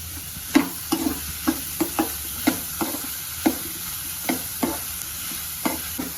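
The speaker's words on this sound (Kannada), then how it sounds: "ಈಗ ಈರುಳ್ಳಿನ 1-2 ನಿಮಿಷ ಫ್ರೈ ಮಾಡಿದ್ದಿದೆ." Sliced onions and slit green chillies frying in a pan, a steady soft sizzle punctuated by repeated sharp scraping taps of a spatula stirring at a quick, uneven rhythm, up close.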